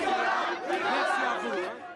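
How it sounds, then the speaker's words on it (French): A dense, pressing street crowd surrounds a politician after midnight outside his campaign headquarters, a loud close mass of overlapping voices, shouts and chatter in continuous commotion. "Policiers et services d'ordre ont beaucoup de mal à lui frayer un chemin dans la cohue."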